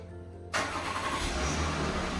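A 2019 Volkswagen Atlas SEL Premium engine starts by remote start with an abrupt catch, then settles into a steady, close idle hum.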